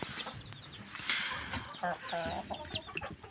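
Chickens cluck and squawk in short, overlapping bursts, a small flock close by with busy, irregular calls and rustling between them.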